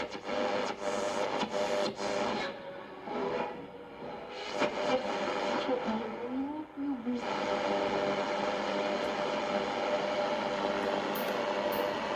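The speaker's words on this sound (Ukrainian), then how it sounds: "чути ССБ сигнал" An SSB shortwave signal received around 7 MHz on a Sony ICF-SW600 receiver under repair, a steady hissing, garbled sideband warble with a brief tuning whistle near the middle.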